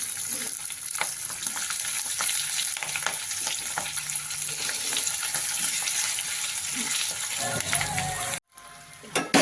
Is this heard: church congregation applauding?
no